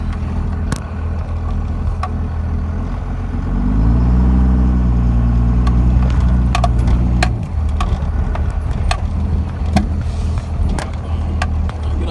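A 1998 Dodge Ram 2500 with a turbo Cummins diesel and an 8-inch dump exhaust drives along a country road, its loud engine rumble swelling midway then settling, with sharp knocks and rattles from the cab.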